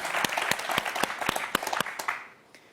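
On a French television quiz show, a studio audience gives a short round of moderately loud applause. Individual claps stand out, and the applause fades quickly at the end.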